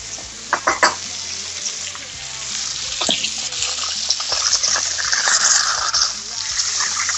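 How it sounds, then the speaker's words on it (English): Garlic fries in oil in a pan, a loud, continuous close sizzle with bubbling and crackle, broken by a few sharp clatters of utensil on pan, and no one speaks over it. "my garlic is going to flavor the oil here"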